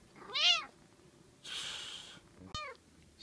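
A cat meows twice with rising, drawn-out cries, near and fairly loud, with a breathy hiss-like burst between them and no talking.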